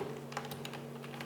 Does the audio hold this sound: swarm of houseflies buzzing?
no